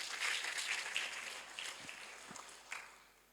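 A church congregation at a Thursday service claps for Jesus, a faint, fairly sparse patter of hands that thins out and dies away within a few seconds.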